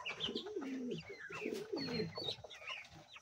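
King pigeons coo and cluck close by in a loft, a run of soft, warbling low calls with a few higher chirps from other birds, and nobody speaks.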